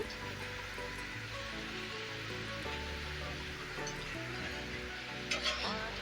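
Egg nuggets frying in hot oil in a pan, a steady dense sizzle and crackle running continuously throughout with a brief louder burst of spatter near the end, with no voices.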